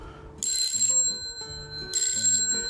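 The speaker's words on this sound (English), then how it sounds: "this bell would go off, alerting them." An antique bell burglar alarm fixed to a doorknob rings twice in bright, metallic bursts, each about half a second long, with quiet gaps and faint ringing decay between them.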